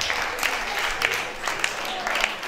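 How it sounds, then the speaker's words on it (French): An audience at a music competition claps in a steady, dense wash of applause, close and fairly loud, with a few louder claps standing out. "Ça s'applaudit normalement."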